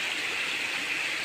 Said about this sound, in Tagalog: Lumalakas na yung tubig oh.